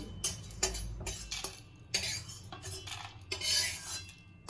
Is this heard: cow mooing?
no